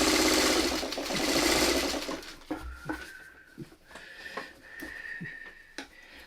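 A sewing machine stitches the borders of a baby quilt, starting with a loud steady whir for a couple of seconds, then giving way to quieter intermittent clicks and short mechanical bursts, close up.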